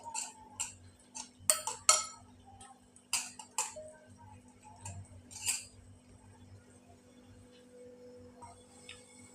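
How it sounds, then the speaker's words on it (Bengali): A utensil beats egg into batter in a bowl, giving a series of sharp, close clicks and taps against the bowl that are irregular at first and then thin out. No one talks. "ডিম দিয়ে আমি এটা ভালোভাবে আবার মিশিয়ে নেব"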